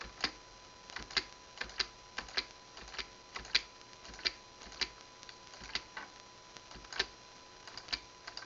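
Keys clatter on a computer keyboard in short, irregular taps, fairly close and moderately quiet, with a few sharper presses standing out among them.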